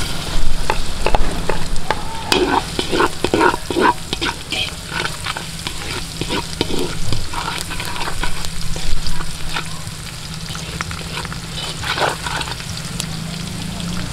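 Garlic sizzles and fries in a pan outdoors as the base for an escabeche sweet-and-sour fish sauce, a steady close crackle broken by frequent scrapes and clicks of a stirring utensil, with no talk.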